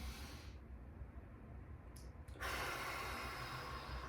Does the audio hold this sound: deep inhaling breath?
yes